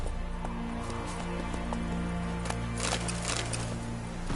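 Roach the horse's hooves in The Witcher 3 clip-clop in an uneven trot over a low rumbling game soundscape, with faint light patter.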